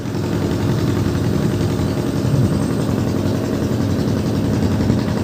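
A trawler boat's engine runs steadily while crossing a creek off the Hooghly river, a continuous low droning rumble heard close and unbroken, with no one speaking.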